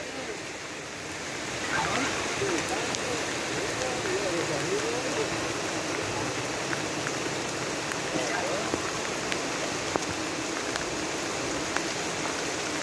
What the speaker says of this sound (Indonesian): Oh, hujan panas ya